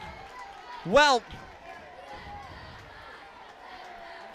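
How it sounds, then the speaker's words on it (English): A loud crowd roars at a Friday night high school football game, Mercedes versus La Feria, as a steady wash of noise under a commentator's talk. One sharp, loud shout or whistle stands out near the start. "This crowd is getting really loud"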